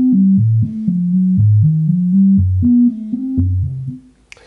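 A modular synth sequence from a Rene sequencer driving a Shapeshifter oscillator plays a steady stepping bass line of short, clean tones in an even rhythm, alone and fairly loud, ending abruptly.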